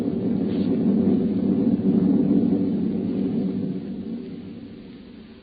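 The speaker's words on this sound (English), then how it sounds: "Through the thunder crash I heard her." A thunder crash in a vintage radio drama, a deep rolling rumble that swells loud at the start and slowly fades away over several seconds, with nothing else over it.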